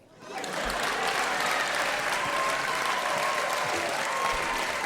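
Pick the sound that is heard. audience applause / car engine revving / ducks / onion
audience applause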